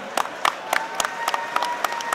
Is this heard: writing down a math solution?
no